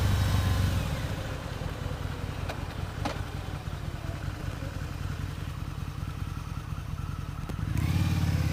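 A Harley-Davidson V-Rod motorcycle engine runs steadily and close by throughout, swelling louder at the start and again near the end, with a faint clatter over its deep rumble.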